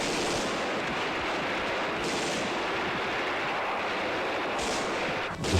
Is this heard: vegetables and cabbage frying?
no